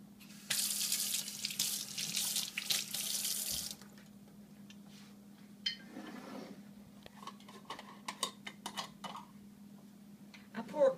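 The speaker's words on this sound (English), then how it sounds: "I pour cold water over this so I can work it better." Cold ice water from the refrigerator poured over freshly churned homemade butter, a loud steady stream running for about three seconds, followed by quieter clinks and handling noises.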